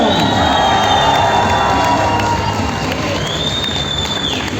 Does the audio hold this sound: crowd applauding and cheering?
yes